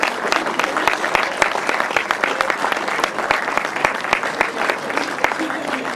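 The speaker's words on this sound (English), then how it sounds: "let's have some applause for 1st, 2nd and 3rd in the 500 sidecars" Crowd applause for the top three finishers of the 500 sidecar class at a grasstrack race meeting, dense steady clapping with sharp individual claps throughout, close and loud, with some voices mixed in.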